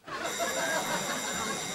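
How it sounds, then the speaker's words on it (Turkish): A doorbell rings inside a home, a sustained electronic ringing tone that starts abruptly and holds steadily, fairly loud and close. "galiba bizim kapı çalıyor"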